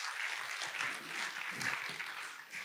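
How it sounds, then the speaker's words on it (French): Audience applause at a panel on whether scientists should speak outside their field, a soft, even patter of many hands heard from some distance, continuous throughout. "On peut l'applaudir même s'il ne peut pas nous entendre."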